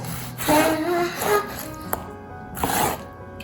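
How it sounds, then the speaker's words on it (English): Heirloom tomatoes being stirred in a bowl for a basil salad, a few short, soft rubbing and scraping bursts close by, with brief knocks between them. "Okay, I mix the tomatoes."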